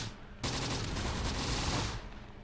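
Gunfire aimed at Panzer Grenadiers in the Italian hills battles of Close Combat The Bloody First, a loud, dense burst of shots running steadily for about a second and a half before cutting off.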